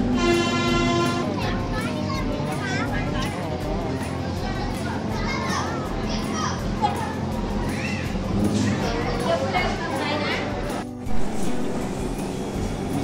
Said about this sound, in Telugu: ఇది రన్స్ డైలీ ట్రైన్ ఇది డెమో.